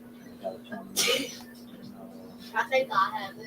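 A single sharp, close sneeze bursts out suddenly, followed by someone talking casually over faint background noise.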